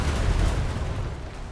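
Ship cannon firing in a naval game, a heavy low boom that rumbles and fades over a second and a half, loud and alone.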